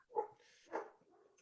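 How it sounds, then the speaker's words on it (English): A sheepadoodle dog in the background gives two muffled barks about half a second apart, faint and distant in a quiet indoor room. "I don't know if you can hear my dog in the background"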